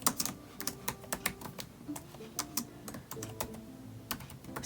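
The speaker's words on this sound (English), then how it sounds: "we're going to type good night" Keys clatter on a computer keyboard as text is entered in Cricut Design Space, with quick irregular bursts of close, crisp taps and short pauses between them and no talking.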